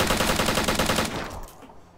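Rapid automatic gunfire in a video game, a fast even burst of shots filling the first second, then stopping abruptly as the sound fades out.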